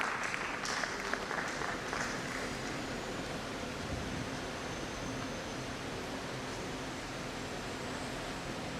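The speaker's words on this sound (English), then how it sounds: "Please, can we give a round of applause as we invite Dr." Faint, distant applause from a conference audience welcoming a keynote speaker. A few clearer claps at the start give way to a soft, hiss-like wash.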